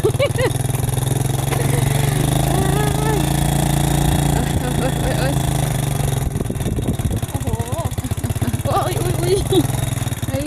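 A motorcycle ridden on a road runs with a loud, steady engine drone that shifts and revs partway through, while someone talks over it.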